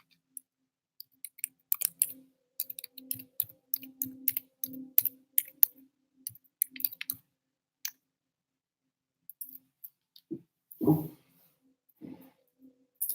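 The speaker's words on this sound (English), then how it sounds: "I'll type my website in." Irregular light key clicks from typing on a computer keyboard, faint and close, coming in scattered bursts with a brief louder thump near the end.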